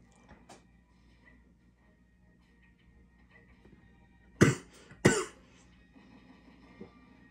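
Two sharp, loud coughs in quick succession, close up, after a stretch of quiet room noise with a faint earlier cough.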